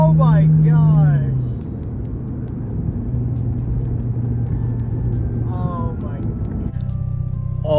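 A 2006 Acura RSX Type S fitted with a short shifter pulls hard under acceleration, its engine note climbing steadily and loud from inside the cabin, with excited voices breaking in at the start and end.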